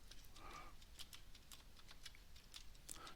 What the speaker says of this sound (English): And you can watch my appallingly bad typing.